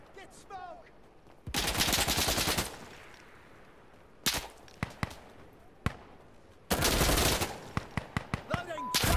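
Automatic gunfire in Insurgency: Sandstorm, loud sustained rapid bursts separated by single shots and quieter stretches, with voices speaking between volleys.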